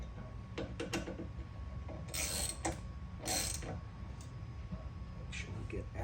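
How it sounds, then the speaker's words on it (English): Ratchet wrench tightening bolts while a Vittorazi Moster 185 MY22 paramotor engine is mounted on a KANGOOK Classic frame, with clicking bursts in rapid runs, close by, with a voice talking over them. "Go ahead and tighten these bolts down."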